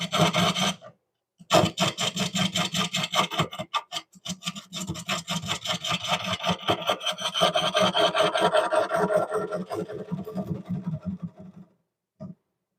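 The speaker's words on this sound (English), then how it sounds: "I think I'll use my BM wood turning one today" A woodturning gouge cutting a wooden bowl on a lathe, loud close rasping and scraping in rapid rhythmic passes with brief pauses near the start and end, no talking.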